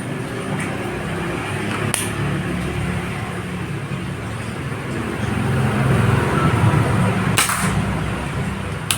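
Two sharp cracks from a Marauder PCP air rifle fitted with an Alfa barrel, one early and one late, standing out over a steady outdoor rumble, with no voices.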